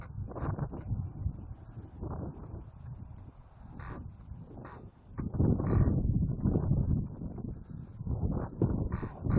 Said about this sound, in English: yep, a lot of wind